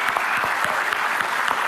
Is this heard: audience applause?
yes